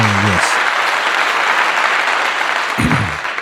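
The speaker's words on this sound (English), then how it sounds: "go ahead and give her a clap at one time for that" A crowd of listeners breaks into dense, sustained applause that fills the room and fades slightly toward the end, with brief bits of a voice at the start and close.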